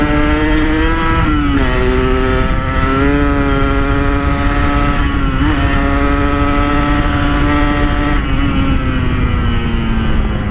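A Yamaha RX King two-stroke motorcycle fitted with a Y3 exhaust pulls hard while being ridden, its loud, buzzy engine note rising and dipping through several throttle changes, close and continuous for the whole stretch.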